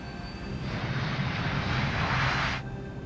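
Airliner taking off, a loud broad roar of jet engines swelling and holding steady at close range, heard on its own without voices.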